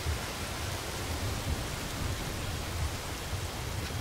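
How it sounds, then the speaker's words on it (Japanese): Heavy rain pours steadily in the video game Fatal Frame: Maiden of Black Water, a dense, even hiss with a low rumble underneath, fairly quiet and continuous with no voices. "めちゃくちゃ雨降ってんじゃん。"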